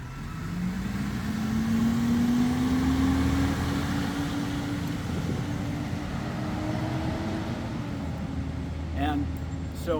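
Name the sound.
truck driving past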